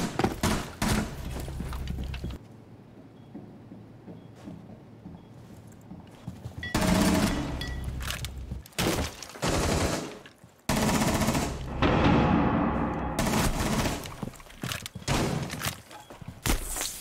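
MP7 submachine gun fire in a video game, loud rapid bursts that cut in and out in several long strings, separated by brief quiet gaps.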